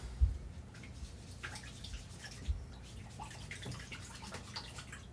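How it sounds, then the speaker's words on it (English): Running water from a tap washes ink off a Chalk Couture stencil, a steady close splashing hiss with a couple of soft thumps and faint drips, with no talking. "So now what we're gonna do is I'm gonna wash this off."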